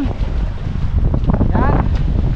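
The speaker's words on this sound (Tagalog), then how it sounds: "medyo mahangin ngayon, gawa ng may ulan" Strong wind with an approaching rain squall at sea, on a fishing trip, buffets the microphone in a loud, continuous roar, with a brief voice surfacing partway through.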